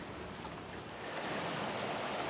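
Steady rain falls outdoors, a dense, even hiss that swells slightly louder partway through, with no voices.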